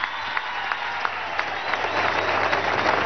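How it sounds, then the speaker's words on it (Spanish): Applause from an audience at a Venezuelan political congress, honoring a cameraman who stayed at his post, moderate and fairly distant, with a few sharper claps standing out and the clapping swelling slightly toward the end. "Un aplauso a este camarógrafo"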